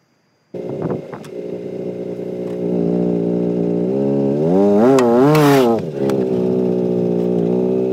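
A 2009 Kia Rondo with an exhaust leak idles and then revs, its engine note loud and steady with a raspy, blatty buzz that rises and falls during a brief rev before settling back.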